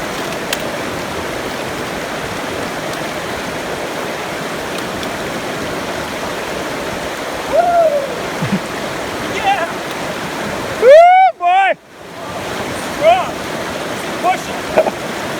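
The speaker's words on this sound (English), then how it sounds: "remind you you're about to cross a river" A river rushes steadily as hikers prepare to cross it, with a constant broadband roar of flowing water and a few brief shouts over the top.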